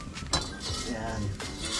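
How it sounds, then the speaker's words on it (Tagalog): A metal wok clanks down onto a stovetop with a brief clatter, while a voice talks over the kitchen noise. "Salang na po natin itong ating kawali dito."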